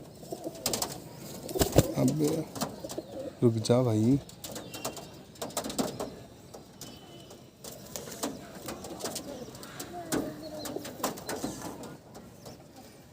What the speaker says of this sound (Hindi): 22-23 साल का एक कबूतर देखिए, बहुत पुराने नस्ल का कबूतर है।